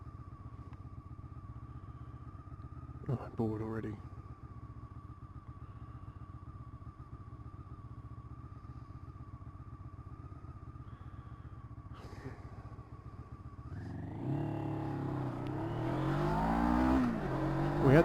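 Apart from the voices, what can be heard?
Honda CB500 motorcycle engine revving while riding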